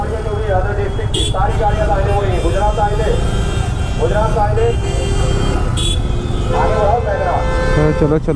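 Busy road traffic rumbles constantly in a town centre jam on a late-night ride from Ayodhya to Kashi during the 2025 Maha Kumbh, while several horns honk and people talk over the noise.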